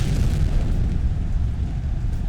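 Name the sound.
explosion in AEW Fight Forever video game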